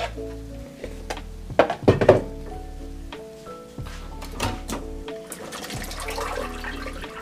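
Canned mixed beans being rinsed under running water, a steady splashing flow with louder gushes and rattling as the beans are handled, close and moderately loud.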